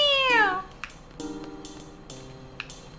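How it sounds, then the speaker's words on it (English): A cat in the video game Final Fantasy VIII lets out one loud drawn-out meow at the start, followed by faint clicks and soft tapping sounds. "Kitty cat. Meow"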